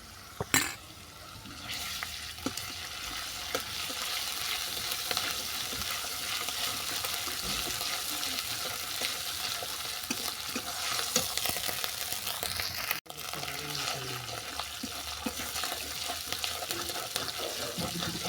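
Garlic and ginger paste frying in a pan for an egg and kohlrabi curry, a continuous fairly quiet sizzle with occasional soft stirring scrapes and one sharp clack.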